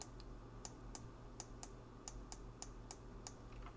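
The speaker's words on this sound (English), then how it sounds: "Probably hearing the clicking a lot." Mouse buttons click sharply and repeatedly during digital painting, about a dozen crisp, close clicks at an irregular steady pace over a low background hum.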